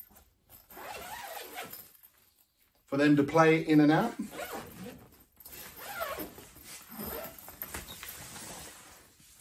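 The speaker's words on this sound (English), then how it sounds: "Zippers on the side" A zipper is pulled along the side of a pop-up children's fire-truck play tent, a short, close rasping zip lasting about a second, with a person talking before and after it.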